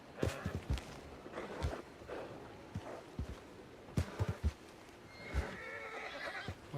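Horse in a ranch roleplay video game whinnying and snorting amid clip-clop hoofsteps and thumps, a busy, fairly close mix of neighs and stamping over several seconds.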